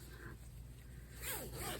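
A short zipper pull on a handmade fabric stadium seat cushion rasps near the end, quick and close, following a quiet stretch with a faint hum underneath.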